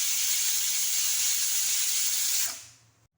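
A pressure cooker holding snake gourd and lentil curry lets off a loud, steady jet of hissing steam for about two and a half seconds, then fades out quickly.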